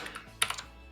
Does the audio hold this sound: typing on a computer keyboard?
yes